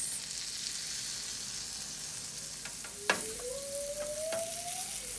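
Gluten-free pancake batter frying in a pan, a soft, even sizzle throughout with a couple of sharp utensil taps and a faint rising electronic tone near the end.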